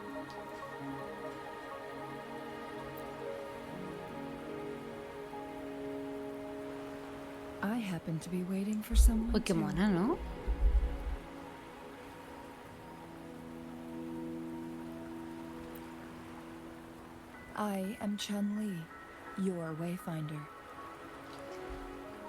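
Steady soft rainfall patters in the Wuthering Waves game world, a faint continuous wash running beneath character dialogue and background music throughout.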